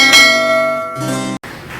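A notification bell chime rings out loud and clear, a couple of bright, resonant strikes with a ringing decay that cuts off abruptly, followed by a softer tone.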